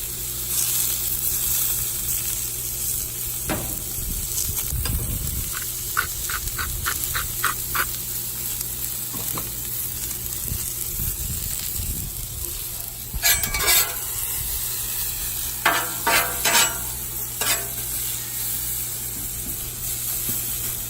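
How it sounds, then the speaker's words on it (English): Onions hit hot oil in a pan and fry with a loud, steady sizzle. Bursts of spatula scraping and tapping on the pan come close up, with no talking. "Let's spread that oil out, get it good and hot. Throw them onions on."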